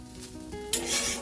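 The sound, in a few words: rice being fried or reheated in a pan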